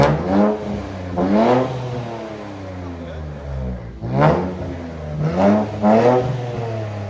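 A 2023 Nissan Z with its X-pipe deleted revs hard several times, the exhaust climbing and falling in loud, close bursts with short pauses between them.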